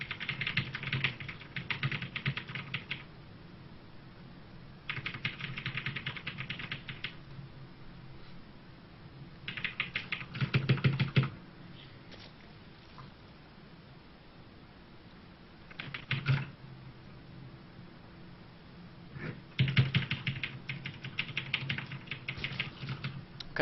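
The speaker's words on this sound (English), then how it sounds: "I've got a DAS keyboard." Bursts of rapid clacking keystrokes on a DAS mechanical keyboard with brown switches come in several dense runs separated by quieter pauses, close and clear, during a StarCraft ZvZ game session.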